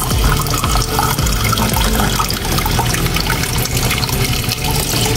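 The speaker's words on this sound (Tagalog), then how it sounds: "lalagyan natin ng 2 tasang tubig" Two cups of water pour into a pot while a vegetable dish with garlic is being cooked, a loud continuous splashing gush that runs steadily for the whole stretch with no talk over it.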